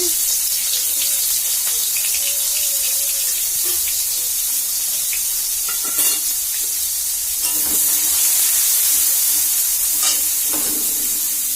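Whole cumin and chopped onion frying in a pan for a chicken curry, a steady sizzle and hiss with occasional stirring clatters and scrapes, a few faint voices in the background.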